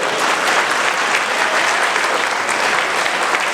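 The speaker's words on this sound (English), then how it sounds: "A big round of applause to the organizers." A crowd claps steadily and loudly for several seconds, dense even applause throughout.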